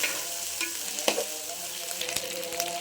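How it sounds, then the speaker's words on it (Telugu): Onions fry in a pan while being stirred for a prawn rice dish, giving a steady close sizzle broken by a few sharp scraping stirs, with no talk. "ఫ్రెండ్స్ ఉల్లిపాయలు అయితే వేగిపోయినాయండి"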